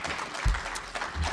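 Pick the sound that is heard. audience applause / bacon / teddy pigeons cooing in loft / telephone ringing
audience applause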